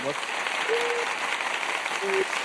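Audience applause at a film club event, a broad steady wash of clapping with voices speaking over it.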